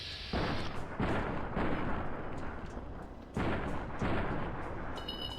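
Gunshots in a modded Fallout: New Vegas, about five heavy booming shots spaced roughly a second apart, each with a rolling tail, loud and close without speech.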